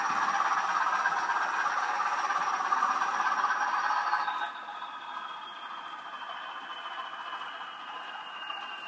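A model Class 87 electric locomotive running an HM7000 sound file gives a steady whirring hum with a high tonal whine that drops to a lower pitch midway, continuous and moderately loud with no talking.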